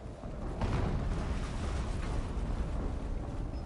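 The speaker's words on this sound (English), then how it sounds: "An explosion." An explosion in the Horizon Zero Dawn game, a deep rumbling blast that swells after a brief onset and then rolls on as a sustained low roar, fairly loud and with no talk over it.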